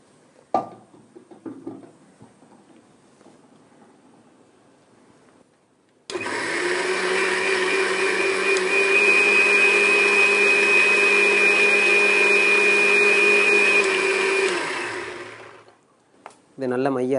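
A kitchen mixer grinder whirs loudly and steadily for about eight seconds, grinding ingredients into a smooth paste for a Tamil ash gourd kofta kuzhambu, then winds down; faint clatter comes before it starts.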